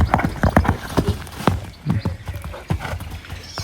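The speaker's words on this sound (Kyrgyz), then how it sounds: "Бул биринчи ат." A horse walking on firm ground, its hooves clip-clopping in a quick, uneven series of close, sharp knocks.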